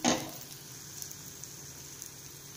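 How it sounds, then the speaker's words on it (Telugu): Stuffed okra frying in a pan gives a soft, steady sizzle with faint crackles, quiet and close, after a brief louder clatter at the start. "ఇప్పుడు బెండకాయలు బాగా ఫ్రై అయిపోతాయి."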